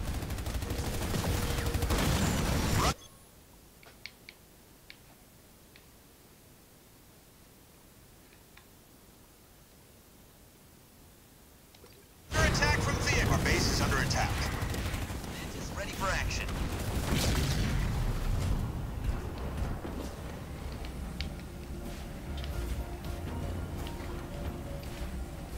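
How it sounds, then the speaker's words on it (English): Gunfire from enemy vehicles in the real-time strategy game Halo Wars 2, heard as loud dense bursts at the start, then a long quiet stretch, then sustained rattling fire and battle noise that continues to the end. "I'm under fire from enemy vehicles."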